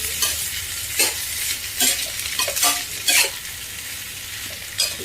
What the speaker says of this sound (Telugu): ఇలా ముక్కలన్నీ వేసేసుకొని కలుపుకోవాలి.